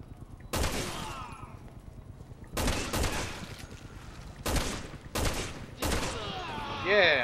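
Machine gun fire in the Resident Evil 6 demo, several loud sharp bursts separated by short pauses, with no talk over them.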